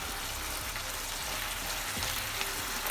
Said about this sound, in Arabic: هلا هيك انا حطيت اللحمه فوق البصل، ورح اقلبها واتركها تستوي